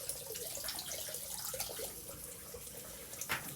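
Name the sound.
rinsing a razor under running water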